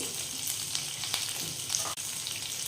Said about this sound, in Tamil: இதையும் சேர்த்து நல்லா பச்சை வாசனை போகிற வரைக்கும் நல்லா வதக்கிக்கலாம்